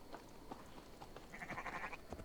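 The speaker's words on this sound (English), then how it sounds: "See, look how mindful these sheep are." A few sheep bleat in short, nasal calls over a busy game-like background in Assassin's Creed Valhalla, one longer bleat standing out near the middle.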